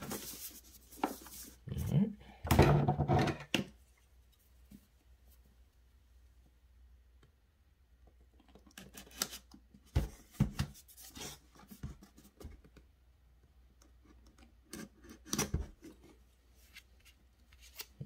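Scissors scrape, snip and rustle against the cardboard box of an Elgato HD60 Pro capture card in short bursts separated by quiet pauses, close by.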